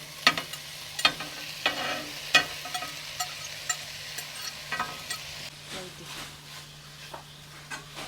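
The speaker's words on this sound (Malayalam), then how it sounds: "എല്ലാം കൂടെ നമ്മൾ ജസ്റ്റ് ഒന്ന് മിക്സ് ചെയ്യുവാണ്" Chicken noodle ingredients are stirred and mixed in a pan with tomato sauce, a spoon scraping and clacking in irregular strokes over a soft sizzle, fairly quiet and close.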